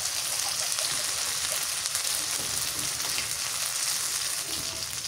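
Dried chili powder frying in the oil of a homestyle Bengali hilsa curry, a continuous crackling sizzle like steady rain, close and fairly loud, unbroken for several seconds with no speech.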